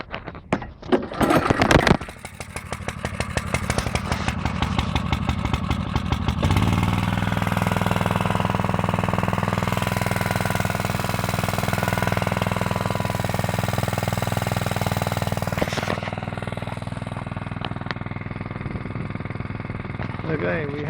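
A fire pump engine runs steadily during a full-flow pressure test, with water blowing out through a pressure relief valve. The loud, close drone follows a few sharp knocks at the start, and a voice speaks over it.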